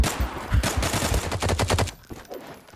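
Rapid automatic gunfire from the Zula video game, a dense burst of many shots in quick succession that is loud and close, then cuts off and leaves quiet game ambience.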